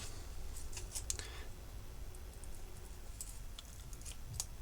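Quiet, close snips of scissors trimming adhesive material come in scattered short bursts over a faint steady hiss, with no talking.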